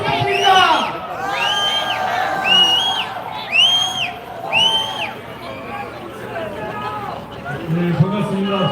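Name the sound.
crowd applauding and cheering at candlelight rally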